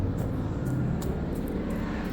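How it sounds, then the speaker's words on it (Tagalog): A helicopter flies overhead, a steady, dense low rumble filling the whole stretch without fading, with no talking over it. "helicopter, sandali lang."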